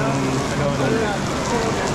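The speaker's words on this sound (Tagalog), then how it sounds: "lakas pa rin na ulan dito" Heavy rain pours steadily at Universal Studios on Sentosa Island, Singapore, a dense continuous hiss with faint voices and ride sounds mixed in.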